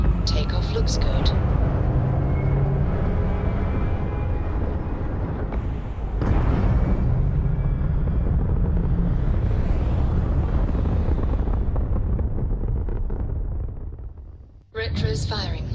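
A spaceship lifts off in Starfield with a loud, continuous roaring rumble and rushing thrust that swells and shifts, cuts out briefly near the end, then resumes.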